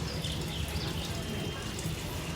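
Water splashing and trickling steadily as it is poured onto sun-dried flowering plants on a rooftop in summer heat, a continuous close wash of liquid sound with a faint bird in the background.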